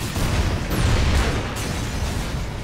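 Explosions blast through walls in the video game Hard Reset: a loud, continuous roaring boom with a heavy low rumble that holds for the whole stretch, crackling debris over it.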